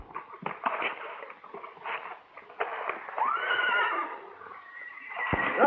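A young stallion neighs in a long shrill whinny, preceded by hoof clatter, snorts and scuffling, moderately close in an outdoor setting with no voices.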